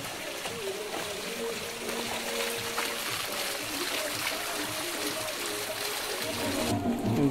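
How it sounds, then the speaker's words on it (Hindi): A small waterfall in a hometown village, where people also bathe, pours in a steady broadband rush of splashing water that stays close and continuous throughout. "बहुत ही खूबसूरत झरना है, छोटा सा है लेकिन"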